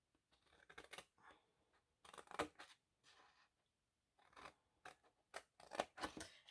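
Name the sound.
scissors cutting along score line of suitcase paper craft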